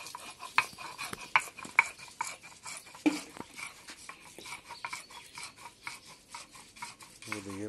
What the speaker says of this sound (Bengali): শিলবাটায় বেটাই ভালো।